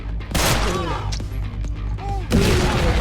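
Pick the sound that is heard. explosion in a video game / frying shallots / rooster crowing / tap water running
explosion in a video game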